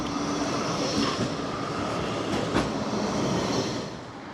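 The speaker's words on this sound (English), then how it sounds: "Here comes a tram." A Blackpool tram rolls past on a gloomy day by the seafront, a steady broad rumble of wheels on rail that swells slightly near the middle and fades off toward the end, with no talking.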